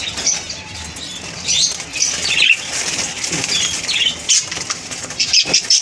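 Pet birds flap their wings in brief flurries close by, with faint chirps and cage rustling scattered through the clip.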